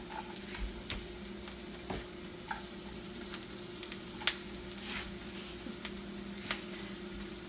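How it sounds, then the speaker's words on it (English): Onion, garlic and ginger fry in a pan with a faint, steady sizzle, broken by light scattered clicks and taps of stirring. "Now I'm going to add more onion and garlic and ginger."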